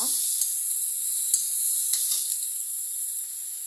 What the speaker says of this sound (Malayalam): സവാളയും ചെറിയ ഉള്ളിയും ചെറുതായൊന്ന് വഴന്നു വരുന്നത് വരെ നമ്മൾ ഇളക്കിക്കൊണ്ടിരിക്കുക